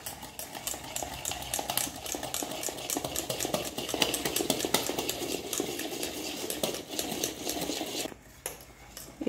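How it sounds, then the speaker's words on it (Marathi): A spoon stirs fasting-style khaman dhokla batter in a bowl, scraping and clinking in a fast, continuous rhythm up close, then pausing briefly near the end. "आणि पुन्हा याला मिक्स करून घेते।"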